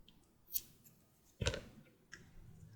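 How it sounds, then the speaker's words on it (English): Scissors snip through knitting yarn while a flat top hat is loom knit, giving one sharp close cut followed by a quieter click or two in a still room. "So we cut the working yarn."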